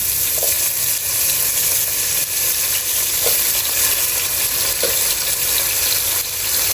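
Tomatoes fry with browned onions in a pot, a constant close hiss of sizzling with faint occasional stirring taps, loud and steady throughout, no voices.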